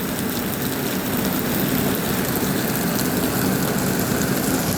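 Heavy summer rain falls steadily in Malappuram, Kerala, a dense, continuous hiss of water pouring onto surfaces that stays loud and unbroken throughout, with no voices.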